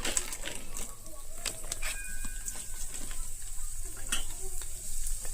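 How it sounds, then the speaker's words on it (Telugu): ABC letter-shaped fryums, or vadiyalu, fry in hot oil at medium heat with a continuous crackling sizzle and scattered sharp pops, fairly close and steady throughout, with no talking. "వడియాలు ఎప్పుడు కూడా ఇలాగ మీడియంలో పెట్టి వేయిస్తే కంప్లీట్గా వేగుతాయి అన్నమాట"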